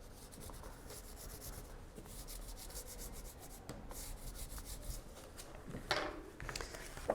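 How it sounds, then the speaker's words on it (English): A bone folder rubs and presses a paper book cover flat during hot-glue bookbinding, giving a steady, close scraping friction that runs throughout, with a sharper rub near the end. "use your bone folder if you need to work that in."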